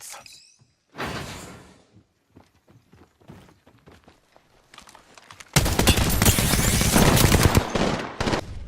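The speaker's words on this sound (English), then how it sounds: "All the guns have their own unique sounds to them and they feel like they have a strong impact." Apex Legends gunfire: a few sharp shots and clicks, then a loud, sustained burst of rapid automatic fire that dominates the end.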